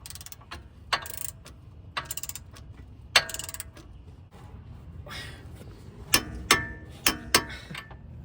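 A hand torque wrench ratchets while tightening the ball joint bolts on a Tesla Model 3 or Model Y lower control arm, giving short clicking bursts spaced about a second apart, then a quicker run of sharp clicks near the end, close and quiet.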